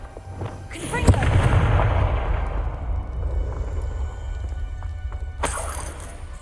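A Confringo fire spell bursts in the Hogwarts Legacy video game: a sharp crack followed by a loud, rolling blast that slowly fades, with another sharp hit just before the end.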